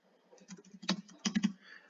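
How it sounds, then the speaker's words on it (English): Someone types text on a computer keyboard for a SharePoint news page, soft close key clicks in irregular clusters with a few louder taps. "to go and create a news page, you can just literally start typing in text"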